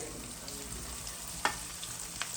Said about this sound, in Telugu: చికెన్ తీసేసుకున్న అదే ఆయిల్లో అల్లం వెల్లుల్లి పేస్ట్ వేసుకొని బాగా ఫ్రై చేసుకోవాలండి.